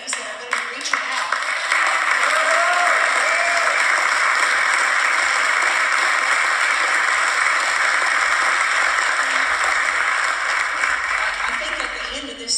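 A church congregation applauds a group of women heading out on outreach, a long, even sheet of clapping from a large gathering, steady and dense with faint voices beneath.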